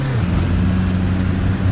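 Engine of an old classic DB40 coach bus in a driving simulator, running a little rough: a steady, loud low drone with a throbbing rumble that continues without a break.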